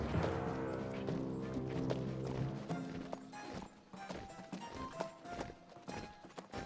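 Horse-dog mounts trot in the King's Quest (2015) video game, producing rhythmic clip-clop hoofbeats that run steadily at moderate level over a sustained musical drone, with no speech.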